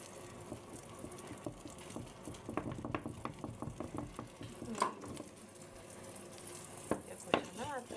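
An egg fries in a pan with a steady close sizzle, with scraping and stirring clicks from a utensil throughout.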